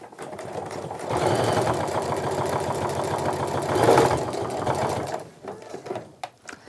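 A sewing machine runs steadily, stitching a quarter-inch seam down a tote bag through bulky handle layers, a fast even motor whir with rapid needle clatter for several seconds, then stopping with a few small clicks.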